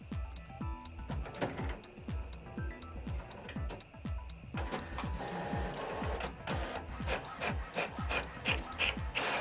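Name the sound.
HP OfficeJet Pro 9013 printer printing a help page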